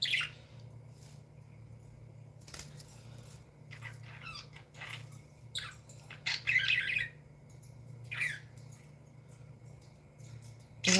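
Young pet birds chirp and squawk in short scattered bursts, some sharp and shrill, over a low steady indoor hum, close by with no talking.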